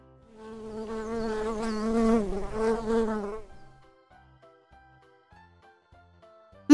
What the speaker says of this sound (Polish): Pszczoła.